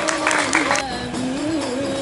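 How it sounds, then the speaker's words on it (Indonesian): Crowd applause at a school Rohis event in Jakarta, a burst of clapping that fades under a sustained tonal hum and a murmur of voices, moderately loud and near. "Tepuk tangan dong."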